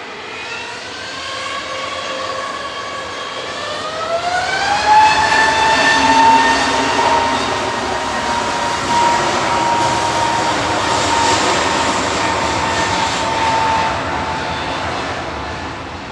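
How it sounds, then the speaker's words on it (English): An EasyJet Airbus A320neo takes off from Manchester Airport for Corfu, engines spooling up with a rising whine that settles into a loud, sustained roar, alone without talk. "EasyJet 2063 heading off to Corfu."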